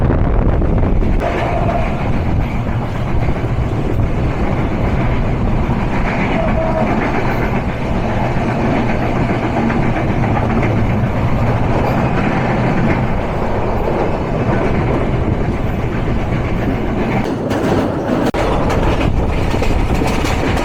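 The 705 Ekota Express runs on rails between Dhaka and Tangail, a loud continuous rumble with rattling carriages throughout and no voices.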